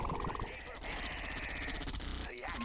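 Rapid bursts of machine-gun fire and gunshots sound in the Red Alert 2 strategy video game, fast and crackling among other battle effects, with a voice talking at times.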